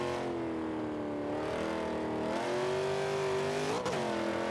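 In Forza 5, a B-class 1995 Mustang's engine drones loud and close under load, holding a steady high note, easing briefly twice, with a quick shift-like blip near the end.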